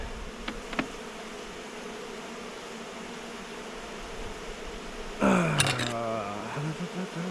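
Honey bees buzz steadily inside a five-frame queen-rearing cell builder hive in spring, a dense continuous hum with a couple of faint knocks early on and a louder burst of handling noise and clatter near the end.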